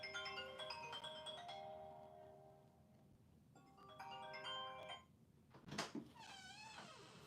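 A mobile phone ringing indoors with a tonal melodic ringtone that plays in two bursts separated by a pause, moderately loud, followed by brief rustling and a short warbling electronic chirp.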